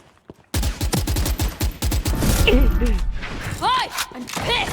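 Rapid bursts of gunfire in the Valorant video game, loud close shots in quick succession with thuds and sharp effect sounds, players talking over the shooting.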